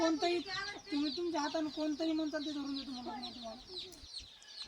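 Village free-range hens clucking close by in a busy, overlapping run of calls, with a few louder squawks and no talk over them before the sound trails off near the end.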